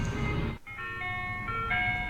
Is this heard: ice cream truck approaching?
yes